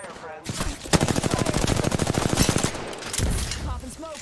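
A rapid, loud burst of automatic weapon fire in the video game Apex Legends, a steady stream of shots lasting about two seconds, followed by more gunfire and game effects, with a voice talking partly underneath.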